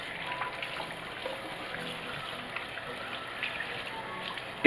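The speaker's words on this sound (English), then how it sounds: "Make sure you rinse and clean them really well." Cool tap water runs steadily over a raw turkey being rinsed and cleaned in a kitchen sink, a continuous soft splashing trickle that holds at an even level throughout.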